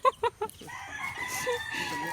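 Chickens cluck sharply three times in quick succession, then a rooster's drawn-out crow and further fowl calls follow close by. Faint voices sit underneath.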